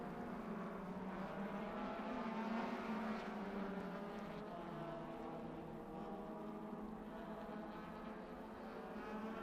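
Race cars at the Sonoma SpeedTour road race roar continuously at a distance, a blended engine drone with shifting tones that swell slightly and fade, faint and without speech.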